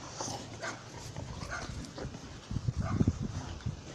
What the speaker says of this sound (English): you got little chihuahuas over there barking at them.